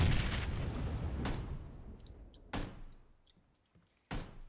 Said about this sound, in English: Alright, I'm gonna shoot at this guy.